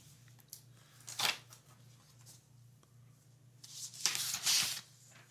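Protective plastic film being peeled off a new Lenovo laptop, heard as two bursts of crinkly, crackling rustle about three seconds apart, close and moderately loud over a low steady hum.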